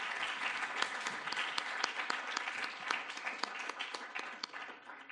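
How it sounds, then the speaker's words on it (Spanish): An audience gives warm applause for Dr. José Alfonso Ramírez Ponce, a brief burst of many hands clapping at an even, moderate level before it starts to fade. "Yo creo que le podemos brindar un cariñoso aplauso al doctor José Alfonso Ramírez Ponce"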